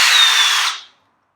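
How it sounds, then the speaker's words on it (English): A power drill set up for drilling concrete whirs loudly and steadily for a bit under a second, then winds down and stops, leaving silence. "can drill concrete with this thing"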